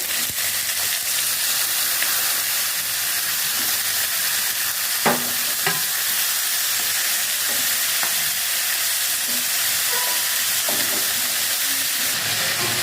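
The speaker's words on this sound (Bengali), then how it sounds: "এখন আমি পেঁয়াজ কুচি ভেজে নিচ্ছি। এখন দিয়ে দিচ্ছি চিকেন পিসগুলো।" Chicken pieces frying with chopped onions in a pan, a steady loud sizzle and hiss throughout, with occasional scraping stirs and clicks.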